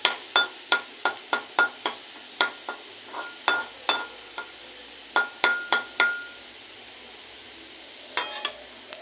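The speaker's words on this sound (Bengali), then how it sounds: "তেলের উপর গোটা পোস্তটা দেবো। এই তেলটার উপরে দিয়ে দেবো পোস্তটা একটু নেড়ে চেড়ে নেবো।" Whole poppy seeds are stirred in hot oil in a pan, a string of sharp metallic taps and scrapes from the spatula in quick irregular bursts over a faint sizzle, close and without speech.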